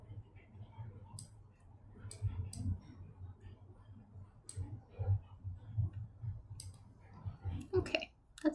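A computer mouse clicks sparsely while a path is edited in animation software, with single sharp ticks scattered under a person talking.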